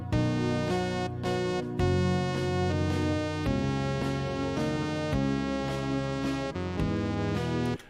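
Old Lead Feed synth patch from a Yamaha DX27, played back from a Fostex reel-to-reel recording: a bright, buzzy lead with steady sustained notes changing every second or so over a bass line, alone with no talking.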